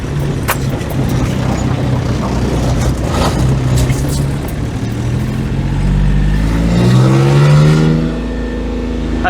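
Diesel-swapped Geo Tracker engine held at full throttle, a steady loud mechanical drone with a rising rev toward the end, up close, with a voice briefly over it.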